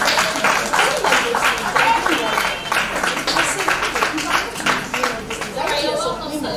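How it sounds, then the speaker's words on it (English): An audience at a business mentoring session claps for a guest cook, a steady close patter of applause mixed with crowd chatter and voices running under it throughout. "So let's keep clapping for her."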